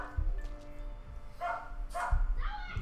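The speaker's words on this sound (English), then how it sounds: "Morning time, and our dog is barking." A dog in Persona 5 barks a few times in short bursts over a low, steady game background, fairly close and moderately loud.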